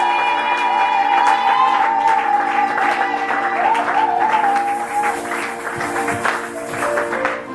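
A church congregation claps loudly and continuously, with the applause mixed under a sustained musical tone from an instrument or singing voice throughout.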